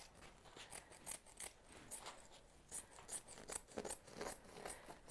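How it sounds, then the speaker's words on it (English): Scissors snip repeatedly through leftover drapery fabric folded over stiff buckram on a workroom table, a quick, steady run of close, crisp cuts with brief scraping rasps between them and no talking. "I fold it back over after I press the buckram in and trim off all the extra fabric"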